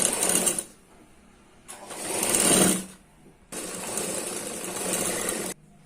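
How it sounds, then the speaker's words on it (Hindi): A sewing machine stitches a blouse neckline in three steady whirring bursts separated by short pauses, close and loud, with no voices. "पूरी साइड में हम इतनी ही सिलाई लगाएंगे।"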